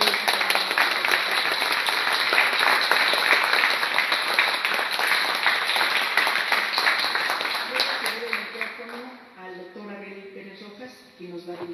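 A crowd applauds loudly and steadily for several seconds, the clapping fading out near the end as a voice begins speaking.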